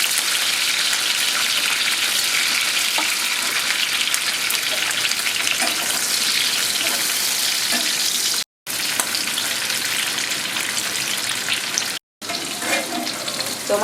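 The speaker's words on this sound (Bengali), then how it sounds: "তো এই তেলেই আমি পেঁয়াজগুলো ভেজে নিচ্ছি ক্যাপসিকাম আর টমেটো" Chopped onions, capsicum and tomatoes fry in oil for a mushroom chilli, a loud continuous hissing sizzle, nearby and uninterrupted apart from two very short cuts.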